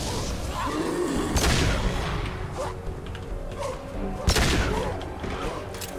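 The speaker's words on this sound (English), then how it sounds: "here's where we bring out the pistol" Pistol gunfire in Mass Effect 2: several sharp shots a second or so apart cut through a dense, noisy game battle soundscape, with a louder crack near the end.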